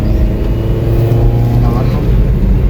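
Engine of a vehicle rumbling close by at steady speed, a loud low drone with brief rising whine, while people talk nearby.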